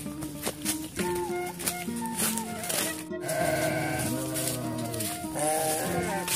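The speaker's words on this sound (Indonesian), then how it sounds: "Kambingnya luar biasa gagah" Several goats bleat repeatedly, close by and loud, their wavering calls overlapping in a village livestock pen in rural West Java, with murmured talk faintly underneath.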